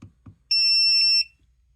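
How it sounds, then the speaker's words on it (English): A plug-in carbon monoxide detector for home use lets out one loud, steady electronic alarm tone of about 0.7 seconds. Two soft button clicks come just before it, and the room is otherwise quiet. "We can check the alarm and turn that on or off."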